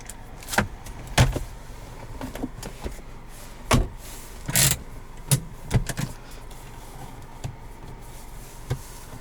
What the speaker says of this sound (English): Automatic windows